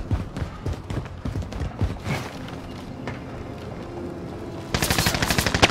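Rapid automatic gunfire rattles in bursts within a shooter video game, close and sharp, pausing midway before another dense, louder volley breaks out near the end.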